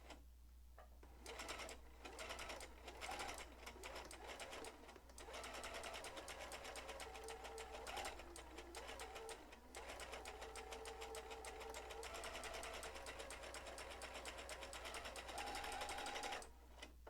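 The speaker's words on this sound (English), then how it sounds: "So I'm getting ready to sew that on." A sewing machine runs at a steady fast stitch while attaching rickrack trim, whirring continuously with brief pauses and a low motor hum underneath, close and clear.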